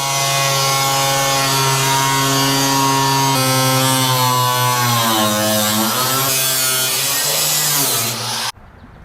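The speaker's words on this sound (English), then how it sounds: "So we just got the angle grinder out. We're gonna make a couple cuts" An angle grinder cuts into the wheel well of a 1956 Chevy gasser, running loud and steady close by, its pitch sagging and rising as the disc bites into the metal, then cutting off abruptly near the end.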